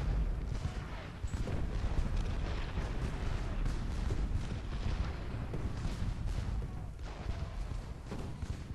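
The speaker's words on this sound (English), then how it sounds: "Focus on Union artillery. There's gonna be a hell of a bombardment." A dense, continuous artillery bombardment from a Civil War battle at Gettysburg in Ultimate General rumbles throughout, overlapping booms blending into a steady roaring wall of cannon fire.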